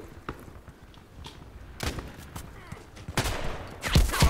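Scattered gunshots in the online shooter Contract Wars, a few sharp cracks and bursts building toward the end over a low game-ambience bed, with some muffled voice-like noise underneath.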